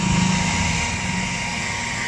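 A hot-air blower works to soften and lift a conduction sticker, giving a steady, loud whooshing hum with a faint low drone that holds evenly throughout.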